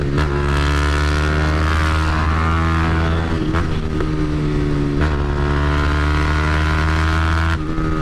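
A motorcycle engine and exhaust drone steadily while riding on a highway journey in Turkey, with a strong low rumble and harmonic whine, punctuated by a few brief gusts or bumps.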